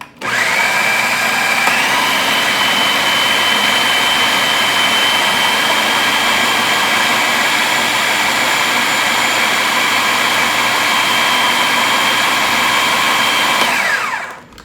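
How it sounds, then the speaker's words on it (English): A food processor runs steadily for about fourteen seconds, chopping vegetables for oat and bean veggie burgers; a loud, continuous motor whine with a slight pitch rise near the start, then an abrupt stop, with no talking. "it's so much easier in a food processor"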